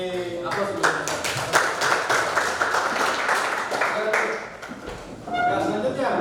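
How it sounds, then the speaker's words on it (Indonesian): A classroom group claps for the first student group in a lively burst of applause lasting several seconds, then it thins out as a voice speaks. "Beri aplaus dulu."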